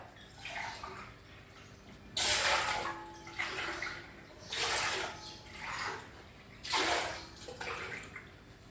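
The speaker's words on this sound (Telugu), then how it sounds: "పదహారు గ్లాసులు నీళ్ళు వేసేస్తా" Water is poured into a pot for rice flour vadiyalu in several separate splashing bursts, each a second or so long, close up, with short pauses between pours.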